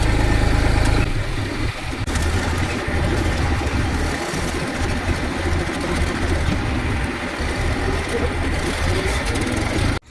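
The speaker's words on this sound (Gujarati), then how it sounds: "આગળ ઢાળ છે એટલે ટ્રેક્ટર એની મેળે ચડી જાય છે" A farm tractor's engine labors steadily as it climbs a small slope, a continuous low rumble that stays loud and near throughout before cutting off abruptly at the end.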